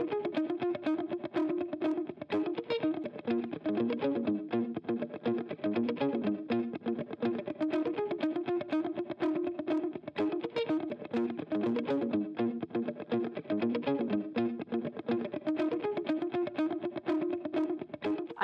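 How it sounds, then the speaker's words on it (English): An electric guitar plays through a DiGiCo Quantum console's Mustard tube preamp, adding mild overdrive. The result is a continuous, moderately quiet run of warm, slightly distorted notes with a steady picking rhythm, with no talking. "I've got a guitar channel here, and I'm going to use the tubes to add a little bit of overdrive"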